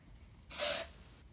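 A can of dry shampoo gives one short, loud spray hiss onto hair, lasting under half a second in a quiet room.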